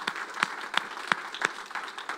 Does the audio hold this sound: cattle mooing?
no